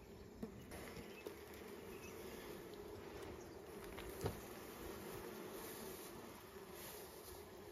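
Honey bees at an open, opened-up beehive make a steady low buzzing hum throughout, fairly faint and even, with a few soft knocks and clicks from handling the hive.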